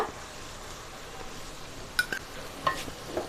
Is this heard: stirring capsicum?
yes